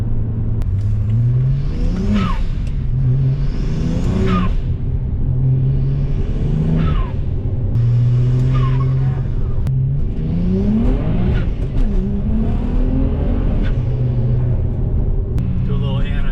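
A BMW 335xi with the N54 twin-turbo engine accelerates hard through repeated gear pulls, each rising engine note cutting off into a shift, with anti-lag pops and crackles, loud and close from inside the car.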